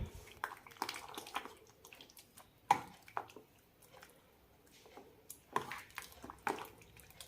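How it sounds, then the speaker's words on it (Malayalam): Vegetable koottu curry being stirred after ground paste and water are added, giving soft wet squelches and scraping at irregular intervals, with a few sharper clatters against the pot, fairly quiet and without talk. "നന്നായി മിക്സ് ചെയ്തെടുക്കാം"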